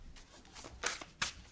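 Tarot cards are shuffled by hand in a few quick, soft riffling bursts, close and quiet.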